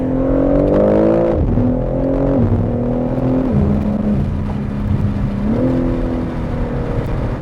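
A new BMW M3 in M mode produces a loud, deep exhaust drone, its engine note rising and falling steadily through revs, close and continuous for several seconds with no speech.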